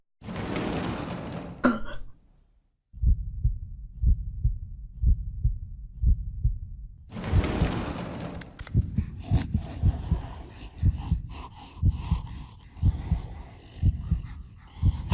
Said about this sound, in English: When she gets close, heartbeat gets louder.